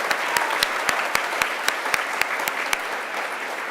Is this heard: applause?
yes